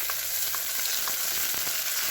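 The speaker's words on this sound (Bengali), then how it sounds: "ভালো করে ভাজা ভাজা করে নিই।" Spice masala fries in a hot pan with a busy, steady sizzle, while a spoon stirring it gives a few soft scraping clicks close by.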